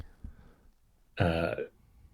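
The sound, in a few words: voice imitating a fart noise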